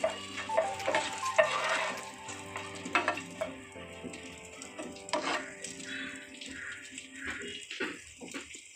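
Black raisins dry-roasted in a pan give quiet rustling and scraping from stirring, with light crackles and short sizzling bursts that rise and fall, and nobody speaks.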